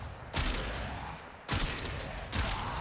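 Trumna Prime gunfire in the Warframe video game: three loud, heavy bursts at roughly even intervals, each leaving a sustained rumbling tail, with no voices.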